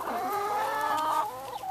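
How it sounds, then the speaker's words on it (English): A chicken clucks nearby in a short burst of rapid, throaty calls, fairly clear with no talking. "Look at all those chickens."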